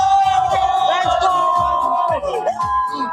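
A loud crowd roars and cheers continuously at a Free Fire esports grand final in Indonesia, with a voice shouting over the din.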